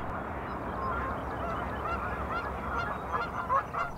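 A flock of geese honks continuously by a river in the morning, many overlapping calls at moderate distance, growing louder toward the end.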